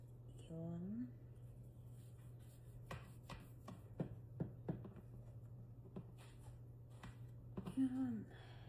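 A knife slices through a lemon cake topped with lemon zest, lemon juice and sugar glaze, giving a handful of short, sharp cutting taps and scrapes spaced over several seconds over a steady low hum, with brief voice sounds at the start and end.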